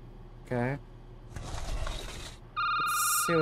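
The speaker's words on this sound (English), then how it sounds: "I'm gonna ignore the phone for a moment." A telephone ringing in the Security Booth video game, an electronic ring heard in bursts between stretches of noise, with a voice speaking briefly.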